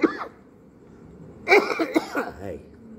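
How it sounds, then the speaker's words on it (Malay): A single sharp cough from a speaker during an evening religious lecture at a surau, close and brief at the start, followed by someone talking. "batuk"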